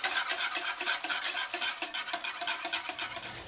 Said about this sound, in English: you slowly now pour the eggs into the bowl of cream while stirring